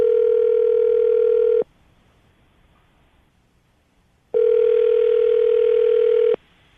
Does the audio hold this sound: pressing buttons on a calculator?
no